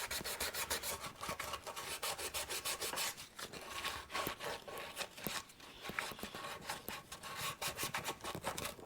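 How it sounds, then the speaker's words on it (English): Smooth sandpaper rubs along the edge of a wooden Telecaster body in quick back-and-forth strokes, a rhythmic raspy hiss that is close but quiet, with no talk. "use some kind of relatively smooth sandpaper just to round that edge over ever so slightly"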